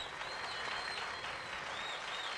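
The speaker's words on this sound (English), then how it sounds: "Mass of people who had been watching us protectively from below, with bated breath, burst into spontaneous applause" Faint, distant crowd applause, a continuous wash of many hands clapping at once, thin and quiet throughout.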